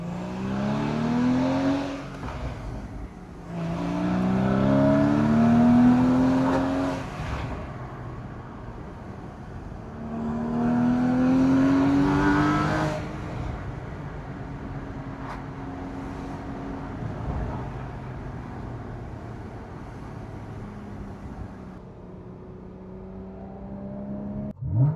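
A Porsche Boxster 981 GTS is driven on the road, its engine rising and falling through repeated revving accelerations and gear changes, then settling into a steadier cruising whir, heard from inside the car.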